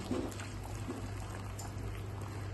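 Hot water is poured into a pot of fish as it cooks, a quiet, steady pouring rush lasting a couple of seconds with no one talking.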